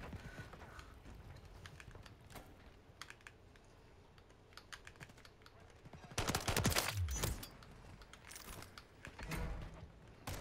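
Gunfire in an online shooter game on the Rundown map, heard as bursts of rapid shots, loudest near the middle, mixed with keyboard clatter and a low background hum.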